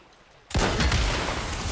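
A loud explosion in the video game Days Gone bursts suddenly after a quiet moment, then a heavy rumbling roar carries on to the end.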